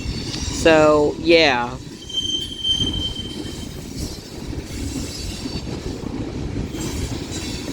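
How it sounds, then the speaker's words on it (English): A BNSF mixed freight train rolls slowly past Central Avenue, high wheel squeals rising and falling early on, then a steady rumble of cars clattering by; someone briefly speaks near the start. "tell he's definitely one of those slow trains."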